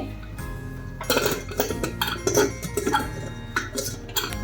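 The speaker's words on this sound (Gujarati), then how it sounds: "હવે આપણે કુકર બંધ કરવાનું છે" A metal pressure cooker lid is fitted and shut in a home kitchen while stuffed brinjal curry cooks, giving a series of close, sharp clanks and clinks with short scraping handling sounds between them.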